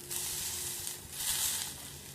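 Garlic sizzles and sautés in a pan while cooking toward golden brown for garlic idly podi, a close, steady crackling hiss that swells briefly as it is stirred.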